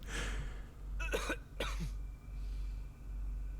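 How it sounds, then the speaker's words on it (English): A character in the video game Redfall coughs, a few short harsh coughs in quick succession followed by quieter throat noise, close and fairly quiet over a low steady hum. "why give me the option to talk if he's just going to cough?"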